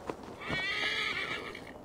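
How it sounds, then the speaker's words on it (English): A summoned horse in the video game Assassin's Creed Valhalla lets out a loud, close whinny with a shaky, trembling pitch that rises and holds, preceded by a couple of hoof clops. "What's up, horse?"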